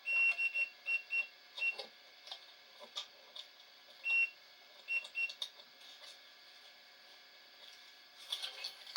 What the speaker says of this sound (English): They're both beeping?